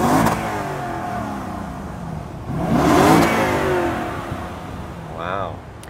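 A 2013 Lexus LS 460 F Sport engine revs up in two rising surges with a sharp starter chirp near the end, heard up close outdoors, with a voice talking over parts of it.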